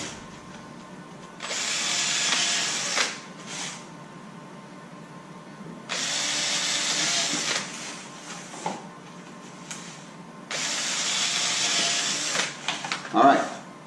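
A power drill pre-drills screw holes in a stone crab trap, sounding as three separate whirring bursts of a second or two each, with quieter pauses between them.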